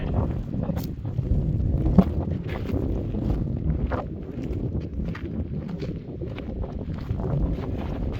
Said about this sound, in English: It's super windy here all the time.